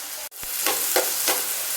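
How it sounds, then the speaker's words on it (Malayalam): Oil sizzling in a hot pan while masala is started for a vegetable pasta, a brief click and dip followed by a rising steady hiss with soft spattering bursts, close and alone. "ശകല എണ്ണ ഒഴിച്ച് കൊടുക്കാം"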